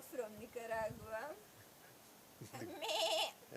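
A voice imitates a Nicaraguan goat, giving two trembling, nasal bleats separated by a short pause, close and fairly loud.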